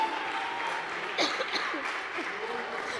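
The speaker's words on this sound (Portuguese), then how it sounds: "Dê uma salva de palmas para o Senhor" A church congregation claps during a Wednesday evening worship service, the applause faint and distant with a slight swell around the middle, as voices carry faintly beneath it.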